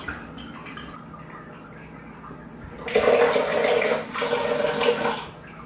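Water from a leaking faucet runs and gushes loudly for a few seconds over a quiet room hum, briefly easing in the middle before surging again and then stopping.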